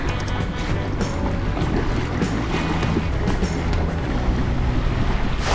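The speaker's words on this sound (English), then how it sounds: "So I'm currently sailing on but one sail." Small sailboat under a single sail on Lake Wānaka, with steady wind buffeting the microphone and water sloshing and rushing against the hull throughout, fairly loud and continuous with no talking.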